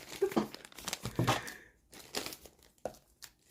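Small plastic Diamond Art card baggies crinkle and rustle up close as they are handled and packed, loud irregular crackles that thin out to sparse crinkles near the end.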